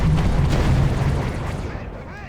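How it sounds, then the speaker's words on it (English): Explosion as a spaceship's hull takes a hit in the Space Commander space combat game, a heavy rumbling blast that fills the opening and then fades out. "we just took some damage directly to the hull there"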